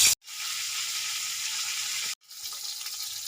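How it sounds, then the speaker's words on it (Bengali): Hilsa fish heads, rubbed with salt and turmeric, sizzle loudly in hot oil at close range, a steady hiss broken by two short pauses. "আমি ইলিশ মাছের মাথাগুলো তেলে ভালো করে ভেজে তুলে নেব"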